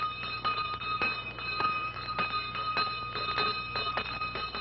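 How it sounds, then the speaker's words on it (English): A bell rung by hand in a doorway, bright repeated strikes in an irregular rhythm, moderately close over a low background hum. "don't point at the lady ringing the bell in the doorway"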